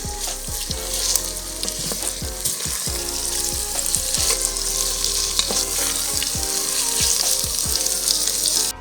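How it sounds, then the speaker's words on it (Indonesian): Chicken pieces sautéing in a pan for spiced yellow-turmeric fried chicken, with a loud, steady sizzle and repeated scraping stir strokes throughout. No voices. "Kita tumis sedikit."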